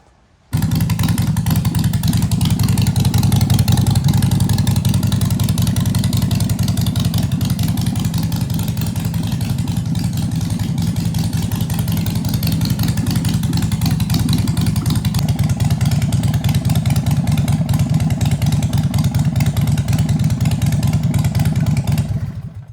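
Harley-Davidson 48 motorcycle engine started cold and warming up at idle, a loud, steady, lumpy rumble close by that runs unbroken for about twenty seconds before cutting off.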